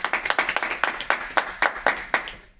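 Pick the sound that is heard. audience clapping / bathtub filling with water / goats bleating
audience clapping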